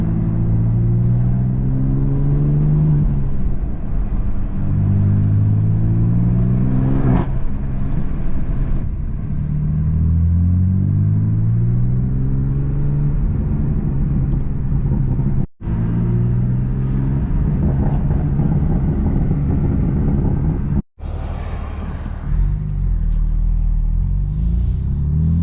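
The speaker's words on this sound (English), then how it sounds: "I've been driving the car for, I'd say, like 10-15 minutes, and it's still not necessarily at operating temp" A BMW F80 M3 with a manual gearbox drones and rumbles while being driven, its engine note rising and falling through several gear pulls, loud and close, with no talking.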